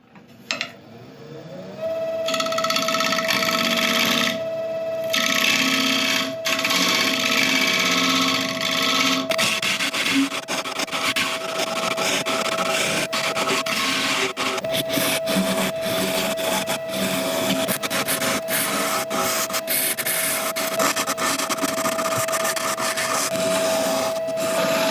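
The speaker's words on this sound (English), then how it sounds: "We're getting now, I think, with some scraping tools, just to sort out this edge and flatten off this base." A scraping tool cuts a hedgehog mallee burl spinning on a wood lathe, a steady motor whine under continuous rough, rasping scraping with irregular bursts as the tool catches the surface, close and loud throughout.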